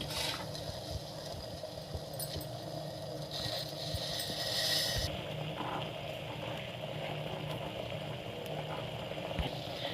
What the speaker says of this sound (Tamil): இப்போ நல்லா இது கொதித்து வரட்டுங்க.